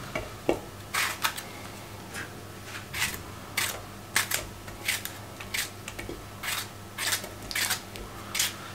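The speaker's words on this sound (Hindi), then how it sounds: "बस ये 2 टमाटर इसके अंदर काट के शामिल कर दें इस तरीके से" Two tomatoes are cut straight into a pan for a quail karahi, producing a string of crisp, separate knife chops, about a dozen irregular cuts near and moderately quiet over a low steady hum.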